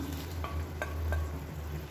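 A spoon stirs fried eggplant into a pot of boiling tomato gravy, giving soft scraping and light bubbling sizzle, quiet and close, with no voices.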